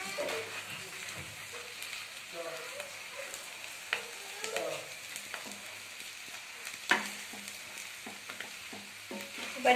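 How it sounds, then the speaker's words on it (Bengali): Potato paratha frying in a pan, a steady crackling sizzle with scattered pops and soft scrapes close by, continuing without talk. "ভালো করে ভাজা ভাজা করে নিচ্ছি"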